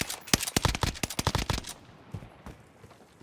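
Gunfire from a gun loaded with tracer rounds in Warzone: a rapid automatic burst of sharp, loud shots lasts under two seconds, then a couple of isolated single shots follow. Nobody speaks.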